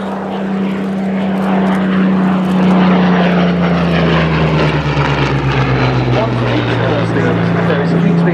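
A loud Spitfire propeller engine drones steadily, its pitch sliding downward as it flies close by at an air show.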